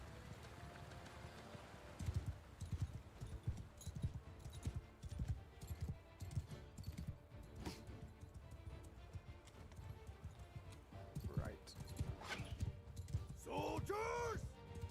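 Cavalry horses galloping in Mount & Blade II: Bannerlord, a dense rolling drum of hoofbeats across the battlefield with shouts and horse cries, and someone talking over it.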